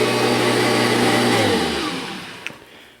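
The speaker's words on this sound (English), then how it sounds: "I am struggling to push this vacuum." A Kirby Generation 5 upright vacuum cleaner roars steadily up close, its motor hum sagging and winding down partway through, followed by a faint knock.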